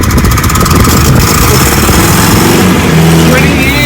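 A Datsun 1500 Ute engine, unused for 20 years, cranks and runs loud and rough with a steady chugging drone, while a voice talks over it.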